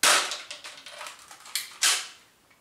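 A DL60 Socom airsoft pistol fires at mini targets, giving a quick series of sharp, close plastic snaps with a few softer clicks between them.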